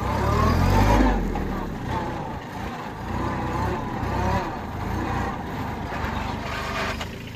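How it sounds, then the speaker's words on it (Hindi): A small Kubota 21 HP tractor engine rumbles while driving in second gear through a farm field, a loud steady low drone that swells and eases, with someone talking over it. "ये देखो भाई लग गया दूसरा गियर इसका।"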